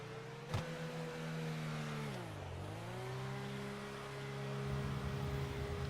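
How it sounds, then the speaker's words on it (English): A car in GTA 5 accelerates as its engine hums steadily, the pitch dipping through a gear change then climbing again, heard at a moderate, fairly quiet level with a short click near the start. "It's wonderful to drive. It's very fast, accelerating."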